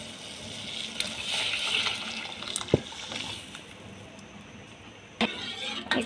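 Milk pours into a pot of boiling masala chai with a steady liquid gush and splashing close by, the stream stopping and restarting briefly toward the end, with no talk.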